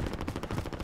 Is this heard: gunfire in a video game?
yes